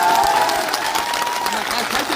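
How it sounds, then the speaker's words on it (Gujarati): A crowd at a political rally on liquor prohibition applauds for a woman, with steady, dense clapping filling the whole moment and some cheering and voices mixed in. "આજે પહેલી વાત તો એ બેન માટે જોરદાર તાળીઓ થઈ જાય."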